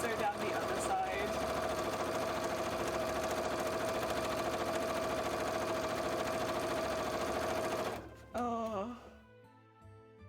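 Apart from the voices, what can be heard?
sewing machine stitching fabric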